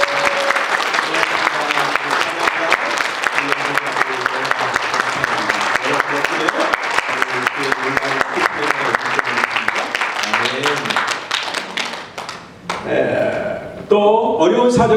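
A church congregation at a 2022 Korean church retreat in Istanbul gives volunteers sustained, loud applause with many crisp individual claps, which thins near the end as voices and a few scattered claps take over.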